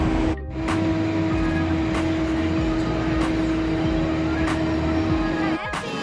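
Inside a crowded Tokyo subway train, a steady loud rumble and hum of the car in motion runs throughout, with a constant tonal whine and periodic clacks of wheels over rail joints.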